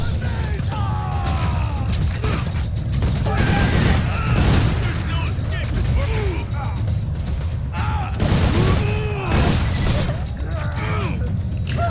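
Gunfire in Borderlands 2, including sniper rifle shots from a Mechromancer, as repeated loud bursts and booms amid busy combat noise, with a voice talking throughout.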